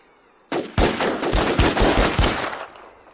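Rapid bursts of automatic gunfire in the zombie game Infestation, a string of close, loud, sharp shots in quick succession with no talk.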